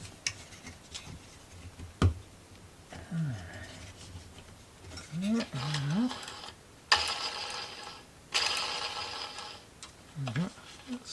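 A small toy hurdy-gurdy kit's wheel mechanism spins and clicks during assembly, with intermittent whirring and rubbing bursts close by, and someone talks between them.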